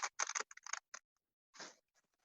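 Scissors snip paper to cut out round sphere shapes while the paper is turned in a circle, several quick close crisp cuts in a cluster, then a pause and a longer slicing cut.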